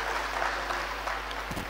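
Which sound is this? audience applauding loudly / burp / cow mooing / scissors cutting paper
audience applauding loudly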